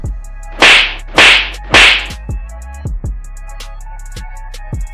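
A hard slap lands across a police sub-inspector's cheek: three sharp, loud cracks in quick succession, followed by several fainter thuds and knocks, with no talking.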